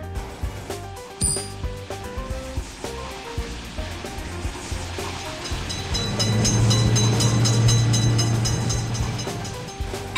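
A train passes a level crossing with its gate. A rumbling rail clatter builds and grows louder and steadier toward the end, with tonal squeals and rattles layered on top.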